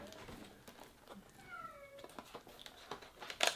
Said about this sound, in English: Our cat's getting a little upset out there.